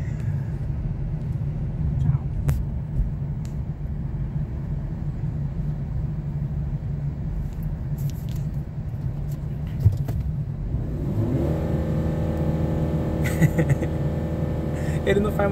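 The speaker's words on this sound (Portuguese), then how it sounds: "coloque neutro e acelera" A car idling in neutral, then revved, its low engine rumble rising into a steady higher drone near the end, with people talking over it.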